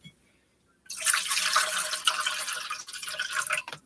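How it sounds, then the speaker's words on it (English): Water pours steadily into a household humidifier tank, a continuous bright splashing stream that starts abruptly after a near-silent moment and runs on loud and close. "I'm just going to add water into the humidifier."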